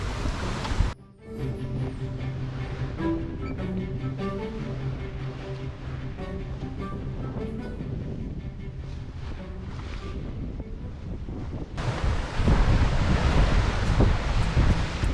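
Wind buffets the microphone and choppy sea slaps around a sailboat near islands where tide meets wind, a broad rushing roar with a sudden louder surge of spray and gusts toward the end.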